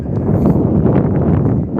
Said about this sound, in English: it's always windy here, folks. Always.